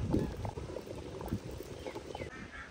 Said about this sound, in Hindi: चेक करें गोश्त जो कैसे ऊपर थलक थलक कर रहे हैं